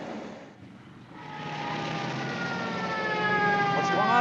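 A police car siren wails, rising steadily in pitch and growing louder, droning over a broad engine-like rumble with no voices.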